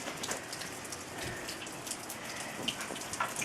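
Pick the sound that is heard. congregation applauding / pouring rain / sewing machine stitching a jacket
pouring rain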